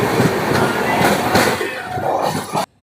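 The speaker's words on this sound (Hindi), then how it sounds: "ट्रेन हमारी पास कर रही है" The Desert Express train passes through a station in Rajasthan, its loud, continuous rumble of rolling wagons filling the scene with faint rhythmic clatter before cutting off abruptly.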